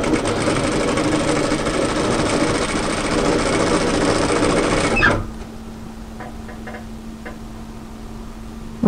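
A sewing machine runs steadily through a crop tailored knit military-style jacket, a loud continuous whir that stops abruptly midway, leaving a low hum with a few small mechanical clicks before a final bump.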